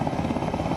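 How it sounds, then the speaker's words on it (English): A rescue helicopter flies over cyclone flooding in Hawke's Bay, its rotor making a steady, loud, close whirring chop for the whole brief moment. "Helicopter after helicopter after helicopter."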